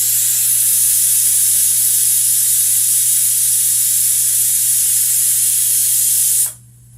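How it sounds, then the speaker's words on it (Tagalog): A pressure cooker cooking Spanish-style milkfish lets out a loud, continuous hiss of escaping steam at its whistle, steady for about six seconds before cutting off abruptly. "Pakinggan natin ang pito."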